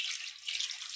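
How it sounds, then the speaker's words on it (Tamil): Crabs for a crab curry are rinsed under running water in a kitchen sink, producing a steady, close hiss of flowing water that carries on throughout the short moment without any voices. "நல்லா கழுவணும்."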